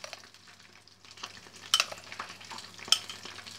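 Fried flounder tossed with a Korean-style sauce is stirred and mixed in a pan, a steady close scraping and sizzling with a couple of sharper utensil clinks.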